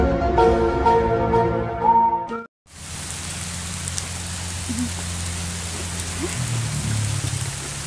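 Steady rain falls throughout, a dense even hiss of drops on a surface that takes over after a brief pause, with a low hum running underneath.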